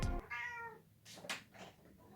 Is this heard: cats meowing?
yes